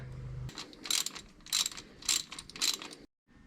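A ratchet wrench turning a modified plug socket to remove a spark plug from a 1946 Chevrolet hot rod truck: four sharp, evenly spaced bursts of clicking pawl, close and loud, followed by a brief silence.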